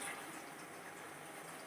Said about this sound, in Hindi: ये जो मैंने प्लेट रखी है मैं इसी पे पानी डाल दूंगी